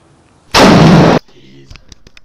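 Explosion captured on webcam and security camera footage: a single loud, broadband roaring blast lasting about half a second, followed by quieter rumbling debris and scattered faint knocks.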